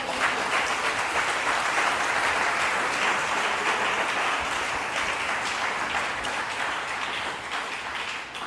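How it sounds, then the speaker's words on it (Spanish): A church congregation applauding, a steady broad wash of clapping from many hands that holds for several seconds and eases slightly at the end. "Denle un aplauso al Señor."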